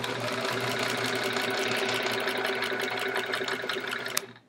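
A vintage sewing machine runs steadily and close for several seconds while zigzag stitching a quilt, with a dense mechanical whir and rapid rhythmic ticking. It stops abruptly near the end.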